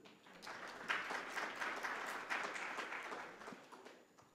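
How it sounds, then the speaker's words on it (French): Applause from a seated audience at a conference on Moroccan financial markets, a steady wash of many hands clapping that swells, holds and then tapers off, heard from a distance in a large hall. "Donc je vous invite à les applaudir."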